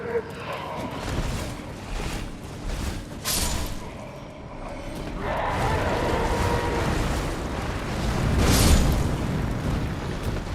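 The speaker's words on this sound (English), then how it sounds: "Man, big explosion." Big explosion in the video game Elden Ring: broad rumbling booms rise and fall over about ten seconds, with a sharp loud burst near the end amid ongoing game noise.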